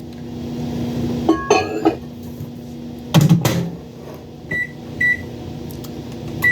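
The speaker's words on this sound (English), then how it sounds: "I'm going to pop this in the microwave to melt it" A kitchen microwave oven runs with a low steady hum while melting ingredients for a holiday party mix. Clicks, clinks and a door-like thump come through, and a couple of short beeps sound near the end.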